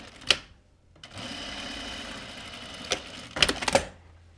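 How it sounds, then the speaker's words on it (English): Sewing machine stitching a hem across the bottom of a top or dress, a steady soft mechanical whir in short runs with small clicks at the start and end, close and quiet. "we're going to sew across the bottom for our hem"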